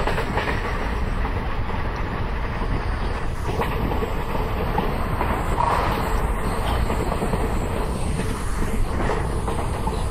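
A simulated Indian Railway train rolls past a level crossing between Aluva and Angamalai in Train Simulator (Railworks), a steady loud clickety-clack of wheels and wagon rumble filling the whole stretch with no talk.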